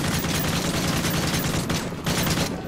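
Sustained automatic AK rifle fire in Call of Duty: Modern Warfare 3, a dense rapid burst of close shots with a brief gap near the end before firing resumes.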